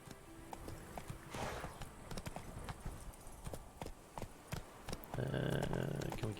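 Hooves of a horse in The Witcher 3 video game clip-clop in a quick, steady rhythm, close and fairly faint, continuing throughout with a little other game sound underneath.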